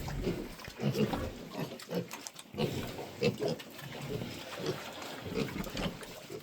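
Large White cross piglets grunting repeatedly in short, uneven bursts, close by, several animals overlapping with low snuffling noise between grunts.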